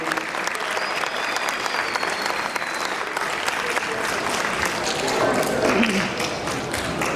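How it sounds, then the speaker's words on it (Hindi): An audience at a poetry and arts stage event claps steadily, dense and sustained applause filling the hall, with faint voices beneath it. "इतनी देर में आप तालियां बजा दें वक्त को मुकुल करने के लिए"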